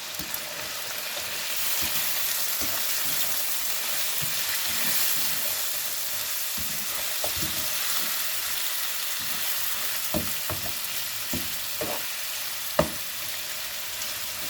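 Heaps of ginger sizzle and fry in a pan for a tinolang manok, a steady loud hiss with intermittent scraping knocks as it is stirred.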